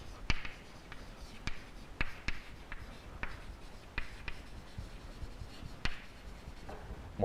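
Chalk writing on a board during a physics lecture on central forces and angular momentum makes a string of sharp taps and soft scratchy strokes, faint and spread evenly through a quiet room.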